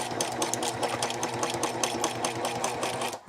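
A Ricoma EM1 embroidery machine stitching down a bag strap in the hoop, a fast rhythmic mechanical chatter of needle strokes running steadily and close, with no talking.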